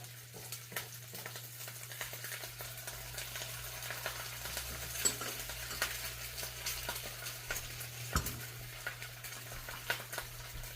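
Eggs frying in oil in a pan beside browning rice for a Filipino tocino breakfast, a soft steady sizzle with scattered pops and occasional utensil scrapes, fairly quiet over a low hum.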